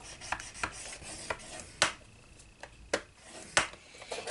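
Paper being scored with a tool on a scoring board, heard as a series of short, sharp scraping strokes at irregular intervals, close and fairly quiet, with no talking.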